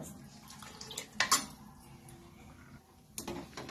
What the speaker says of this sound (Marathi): असं एकसारखं आता चांगला हलवायचं, चांगली उकळी येऊपर्यंत आपल्याला हलवायचं आहे